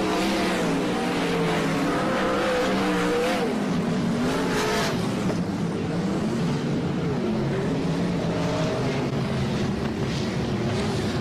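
Speedway race cars at night in Warrnambool during a Grand Annual Sprintcar Classic heat, engines roaring continuously and rising and falling as the pack laps, loud and steady with crowd-level ambience underneath.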